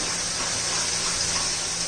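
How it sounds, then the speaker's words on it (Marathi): Hot water poured into a simmering curry of elephant foot yam (suran), a steady broad gush of liquid running continuously and close at hand with no talking. "त्याच्यामध्ये म्हणजे आपण गरम पाणी घालून घेऊया"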